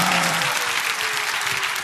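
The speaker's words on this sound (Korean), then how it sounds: "박수하겠습니다." A church congregation breaks into applause, a dense burst of clapping that fills the whole short moment with a faint murmur of voices underneath.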